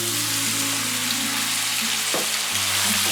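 Pork belly sizzles in browning caramel of sugar and oil in a pan over high heat, a steady loud frying hiss with a low hum beneath and a brief clatter near the end.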